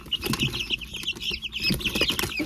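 Guinea fowl and chickens cluck and chatter in a brooder while being moved, with busy, close, overlapping calls and small scuffling noises.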